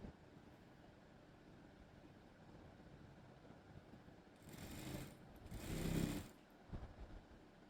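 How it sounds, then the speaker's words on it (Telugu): Sewing machine stitching a school uniform top for a teenage girl, running in two short bursts of a couple of seconds each after a quiet stretch, moderately close with light clatter at the end. "ఈ మార్కింగ్ ఎలా ఉందో అలా అయితే స్టిచ్ చేసేసుకుందాం."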